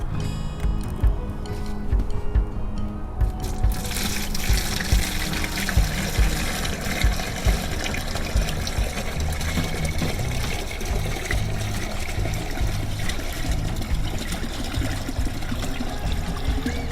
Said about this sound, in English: I'm going to go ahead and run all of this through the strainer into this bucket.